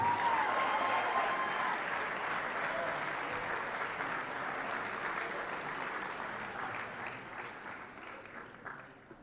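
An awards-ceremony crowd applauds graduating athletes, a dense wash of many hands clapping that starts full and slowly thins and fades over several seconds.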